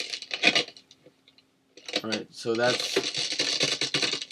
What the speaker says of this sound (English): so that's ice cracking, like stepping on a big chunk of ice